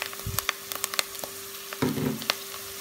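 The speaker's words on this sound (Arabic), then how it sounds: "بقلي البصلة على الغاز لتاخد لون أصفر خفيف" Onion and garlic frying in a pan on a gas stove, soft sizzling with scattered crackles and pops, plus a brief scrape of stirring near the end and a steady faint hum throughout.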